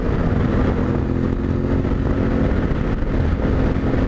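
A Yamaha Ténéré 700 motorcycle cruises at about 75 mph on a freeway. Its engine drone and rushing wind blend into a loud, steady roar throughout, with no speech.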